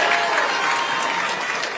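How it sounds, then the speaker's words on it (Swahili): A crowd claps steadily and loudly for a speaker at KICC, Nairobi, a dense, even wash of applause with no voices standing out. "tumpigie baba makofi"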